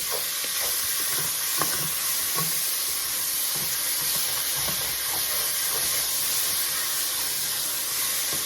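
Vegetables and a hot dog sizzle and crackle steadily in hot oil, with occasional soft clinks and stirring sounds close by.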